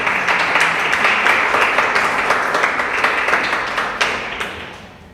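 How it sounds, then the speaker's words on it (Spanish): A church congregation claps together through a Sunday service, a dense, steady wash of applause that stays loud throughout and thins slightly toward the end. "damos aplausos a Dios que vive y permanece para siempre"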